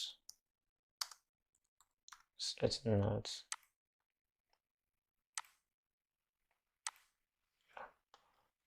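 Several sharp clicks from a computer mouse and keyboard, scattered singly and in a short burst of typing, close and quiet, with a brief low thump in the middle.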